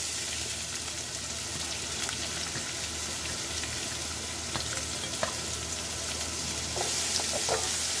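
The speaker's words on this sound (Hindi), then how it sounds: "प्याज को हमने ट्रांसपेरेंट होने तक जो है भूनना है" Onions with green chillies fry in a pan, a steady, fairly loud sizzle with occasional stirring clicks and brief crackles, growing slightly fuller toward the end, no one speaking.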